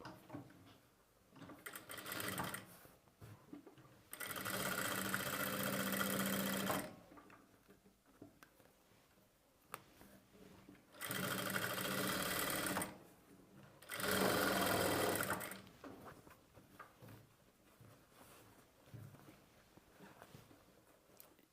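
Sewing machine stitching thread piping onto the lining of a square-neck blouse, running in three loud sustained bursts separated by quieter handling and pauses.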